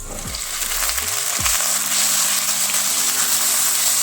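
Onions sizzling in a pan alongside peas and mushrooms for a curry, a loud, steady close hiss of frying with a few brief clinks near the start.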